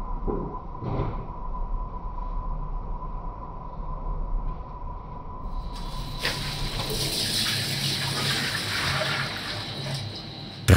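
After a stretch of quiet room hum, about three and a half litres of water is poured for döner bread dough, producing a steady close rushing splash that runs to the end.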